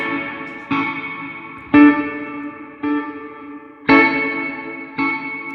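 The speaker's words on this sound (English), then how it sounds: "Now I can add in the reverb." Slow, sustained guitar chords at 41 beats per minute, struck about once a second through a reverb pedal, each ringing out with a lush reverb tail that blends into the next.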